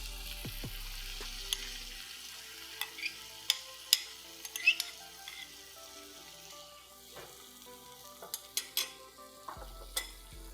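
Kale, spinach and warm milk stirred together in a pan for a creamy coconut dip, giving soft scraping and clinking taps with a faint sizzle throughout, no talking.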